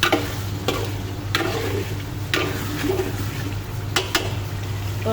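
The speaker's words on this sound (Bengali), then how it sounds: "তো আবারও নেড়ে চেড়ে দিলাম" A spoon stirs rohu fish curry with potatoes in a pan, with a steady frying sizzle underneath and sharp scraping strokes against the pan at irregular intervals.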